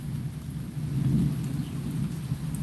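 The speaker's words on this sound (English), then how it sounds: "You gonna be off because of the rain, Steve-O?" A thunderstorm with rain rumbles deep and continuous, a heavy low roll of thunder swelling in the middle over a steady wash of falling rain, with no voices.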